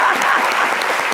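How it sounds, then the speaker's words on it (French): A studio audience applauds steadily at a midday talk show featuring Gabon as the guest country at the FEMUA festival, with dense, even clapping at close range throughout the short burst and no talk over it. "Applaudissons l'éloquence de Janice."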